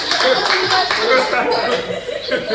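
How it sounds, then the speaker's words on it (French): Audience clapping at a French talk show taping, steady and fairly close, mixed with chatter and light laughter throughout. "Applaudissez."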